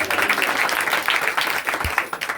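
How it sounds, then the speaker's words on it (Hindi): Church congregation clapping loudly during a worship service, a dense, steady wash of many hands applauding together at close range, sustained without a break. "ताली बजाओ जोरदार, हालेलुया"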